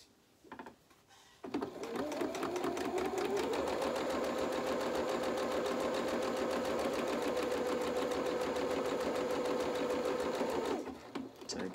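A sewing machine stitching fabric for a small doll's polka dot dress runs steadily at speed for about nine seconds after a short start, a close, even mechanical whirr with a rapid needle rhythm, then stops.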